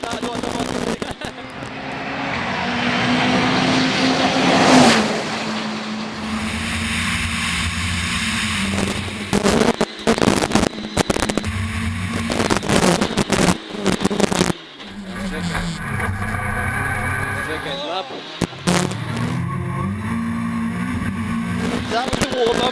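A Citroen DS3 WRC rally car drives hard, its loud engine roaring and surging through repeated gear changes and abrupt cuts, heard from close by inside the car.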